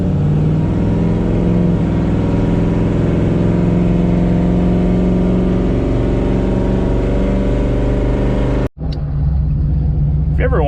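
A 1968 Camaro's engine and exhaust rumble steadily and loud while driving, a continuous deep drone that cuts out briefly near the end before resuming.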